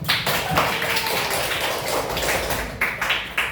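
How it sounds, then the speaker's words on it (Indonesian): A school class of ninth-grade students applauds together, a dense, steady wash of many hands clapping close by for a few seconds without a break. "Tepuk tangan dong untuk kita semua"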